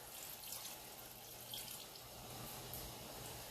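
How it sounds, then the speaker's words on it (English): Water pours steadily into a cooking pot while chicken and rice with a curry twist is being prepared. The rushing, splashing stream sounds close and continuous, with no talking. "I'm gonna add in my water."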